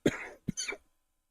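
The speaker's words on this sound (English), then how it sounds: "I already got a cough" Two close coughs from a person nearby, a sharp burst followed after a short pause by a second, rougher cough, then silence.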